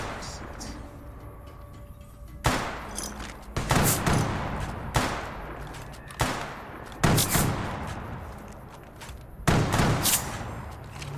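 Gunfire in Fallout: New Vegas with a Wild Card mod list, loud shots and bursts landing in clusters roughly every second or two over a low game backdrop, with a voice talking at times.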